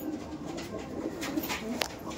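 Andhra pigeons coo in low, soft murmurs amid a busy, noisy loft backdrop, fairly close and continuous, with a sharp click near the end.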